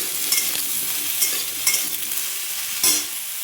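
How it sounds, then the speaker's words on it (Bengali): Eggplant frying in hot oil, a close, steady bright sizzle with a few louder spits and bursts as pieces settle in the pan, no voices over it. "বেগুনটা আমি ভেজে নেব।"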